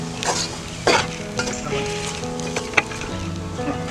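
Chopped tomatoes are stirred into a frying masala in a pan, giving a steady close sizzle broken by spoon scrapes and clinks against the metal, with a few louder knocks.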